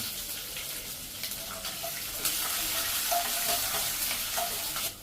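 Oil sizzles steadily as green and dried red chillies fry with curry leaves in a tempering, with stirring and scraping in the pan throughout, loud and close.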